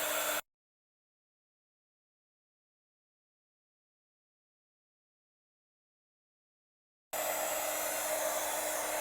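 A hair dryer blows on fresh paint on an MDF tray, a loud steady whooshing roar that cuts out abruptly and leaves a long silence before it starts blowing again.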